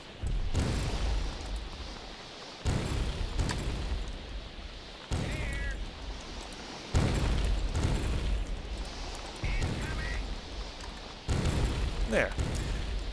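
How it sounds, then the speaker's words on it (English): Explosions in the video game Myth III: The Wolf Age hit as a series of abrupt, loud booms every couple of seconds, each decaying into rumble. "Explosions stun Trow for an obscenely long amount of time"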